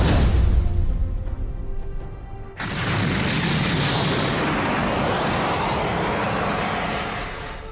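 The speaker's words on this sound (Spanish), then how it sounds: "Una explosión de gran tamaño se escuchó en las cercanías" A large explosion sound effect hits with a deep rumble, then a sudden sharp blast that settles into a sustained roaring wash that slowly fades, loud and without speech.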